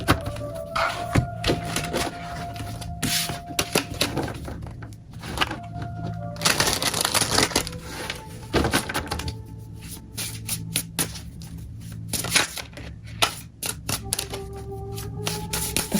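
A deck of tarot cards is shuffled by hand in repeated bursts of riffling, flapping and tapping, close and fairly loud, with brief faint tonal hums in the background and no talk.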